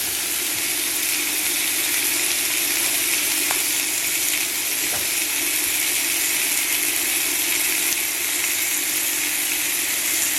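Bacon sizzling in coconut oil in a pan over low heat, a constant loud crackling hiss that fills the whole stretch, with a couple of faint clicks and no talk.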